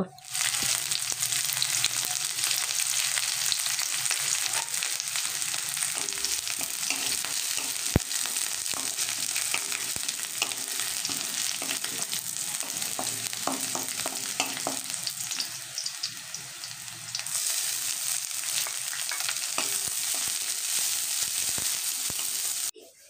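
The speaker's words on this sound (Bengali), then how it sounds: "তো এবারে এতে আমি কুচানো কাঁচা লঙ্কা অ্যাড করে দিচ্ছি। কাঁচা লঙ্কাকেও হালকা একটু ফ্রাই করে নেব।" Chopped green chillies sizzling with golden-fried garlic in a pan, a bright, continuous crackling fry that lasts the whole stretch with a few faint stirring knocks, close and without talk.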